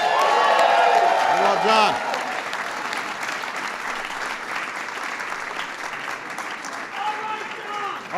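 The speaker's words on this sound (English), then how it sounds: "Give John Berry a big round of applause, please." Audience at an LGBT Pride reception breaks into loud sustained applause with scattered cheers, while a voice speaks briefly over the clapping near the start.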